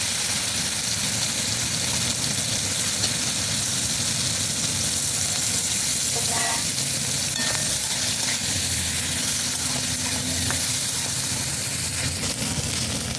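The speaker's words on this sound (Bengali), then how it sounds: "তেল গরম হয়ে গেছে, এবার আমি ধুয়ে রাখা মাছগুলোকে ভেজে নেব" Dried loitta fish fry in hot oil, a loud, unbroken hiss and crackle that holds steady throughout, with a few faint clinks and scrapes from a pan and no voices.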